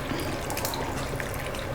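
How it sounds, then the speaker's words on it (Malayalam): Water is poured into a cooking pot holding tomato, onion and cashew nuts, set to boil for paneer butter masala; a steady, close splashing trickle fills the short stretch without a pause. "വെള്ളം ഒഴിച്ചിട്ട്"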